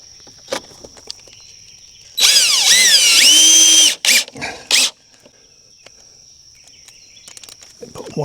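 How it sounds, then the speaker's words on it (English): A power drill drives screws into a wall at an off-grid homestead: one long whining run that winds up and slows, then several short bursts, with steady insect buzz in the background. "Okay, and then we'll put 2 more screws in."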